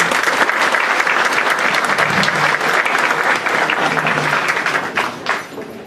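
A university audience applauds to welcome Dr. José Gregorio Hernández as he takes the stage to speak on constitutional rights in Colombia. The clapping is steady and dense, with faint voices beneath it, and it eases off slightly at the end.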